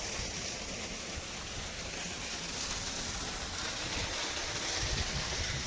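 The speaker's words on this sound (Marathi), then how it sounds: "बघू शकता हा पाणी प्रेशर मस्त एकदम पाणी प्रेशर मारलेला आहे" Steady, loud rushing of water pouring with force from a 3 HP Oswal solar pump, a continuous broadband gush that holds evenly throughout with no voices.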